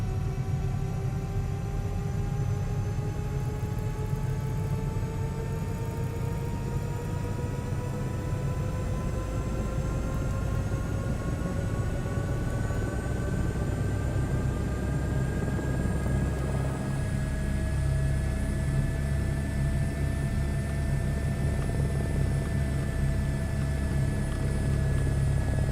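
An H125 helicopter in a flight simulator spools up for takeoff, its steady turbine whine and rotor drone rising gradually in pitch, loud and constant throughout.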